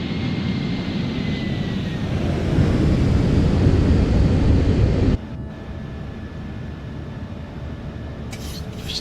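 A PMDG 737-800 in Air Europa colours passes by near Palma in Microsoft Flight Simulator 2024, a loud, steady engine roar that swells and then abruptly drops to a quieter hum.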